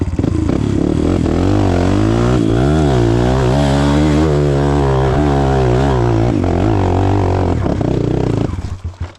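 An off-road vehicle's engine strains loudly in second gear while climbing a steep hill, a steady harmonic drone that rises and falls in pitch with the throttle for about nine seconds before dropping away at the end.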